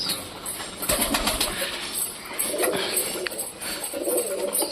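A crowd of pet pigeons at home cooing and flapping, with soft throaty coos and bursts of wingbeats close by, plus some light shuffling and faint background noise throughout.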